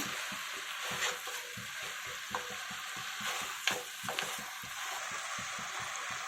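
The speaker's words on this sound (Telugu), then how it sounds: "మిక్స్ చేయాలి బాగా" Gongura mutton curry is stirred in a pan, a soft simmering sizzle broken by steady, rhythmic scrapes and clinks of the spoon, close and continuous without talk.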